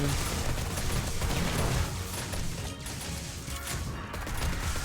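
Dense, loud explosive bursts and crashing blasts from grenades being thrown in the survival game 7 Days to Die, overlapping in a steady barrage with no clear gaps.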